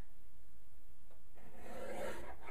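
A paper trimmer slicing a wedding invitation card, one close scraping rasp of the blade drawing through the card in the second half, following quiet handling, over a faint steady whine.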